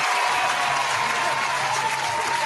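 An audience claps continuously in a dense, even wash of applause that stays steady throughout, with no voices rising above it.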